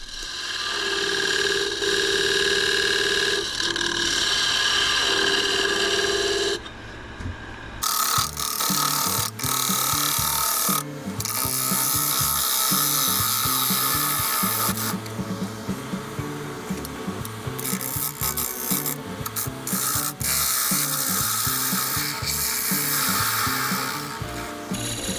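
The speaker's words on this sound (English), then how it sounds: "we're using the skew here to set the dovetail angle" Skew chisel shaping a dovetail recess on a lathe-mounted segmented bowl of padauk and poplar, a steady loud whirring scrape with rhythmic cutting pulses throughout and a brief pause partway before cutting resumes.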